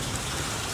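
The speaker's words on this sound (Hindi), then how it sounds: "बारिश शुरू हो गई है और ठंडा ठार मौसम हो गया है।" Heavy rain pouring down steadily outdoors as a sudden storm begins, a dense, continuous hiss of drops on surfaces close by with no voices.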